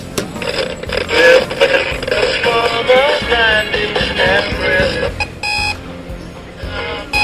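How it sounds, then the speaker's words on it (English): Alarm clock being tested during a clock flip, its buzzer sounding loudly in repeated warbling beeps for several seconds, followed by a brief rattling burst near the end. "So that switches between buzz and alarm and..."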